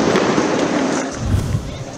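A sudden, loud explosion from an Israeli airstrike on Gaza, probably near a refugee camp, gives a sustained roar of blast noise that fills the whole moment.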